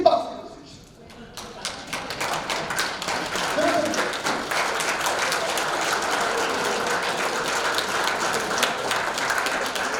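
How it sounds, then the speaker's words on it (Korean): An audience at a Rotary training gathering gives a long round of applause that builds after a brief pause and holds steady as a dense, moderately distant patter, with some voices underneath. "그 훌륭한 로타리를 위해서 쓰셔서 긴 박수를 주십시오."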